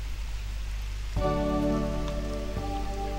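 Rain falling in a Japanese dating-sim video game scene by a children's park, a constant hiss soon joined by a sustained tonal musical chord that enters abruptly and holds over the rain.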